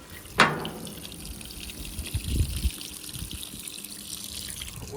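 Simpson Model 164 washing machine filling with hot water for a high-level hot wash: a sharp thump at the start, then a faint, steady trickle and rush of incoming water with small clunks in the background.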